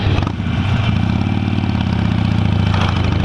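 A motorcycle engine idles close by with a steady, throbbing low rumble that stays even throughout.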